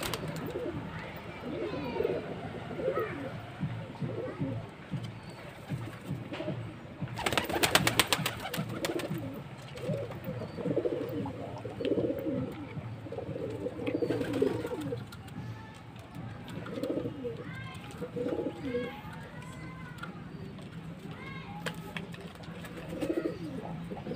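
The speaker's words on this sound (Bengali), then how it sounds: "সাইজ দেখতে পাচ্ছ সব পায়রা একে একে খাচ্ছে।" Pigeons coo repeatedly while feeding, a steady low murmur of overlapping calls from a flock close by, with a brief burst of scraping or fluttering partway through and no talk.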